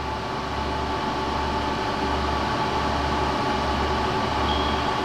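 A 1999 Chevalier CG-1440A universal cylindrical grinder runs at a steady, smooth mechanical hum with a low, even drone and faint whine, continuous and close with no talking.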